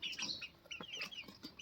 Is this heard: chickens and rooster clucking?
yes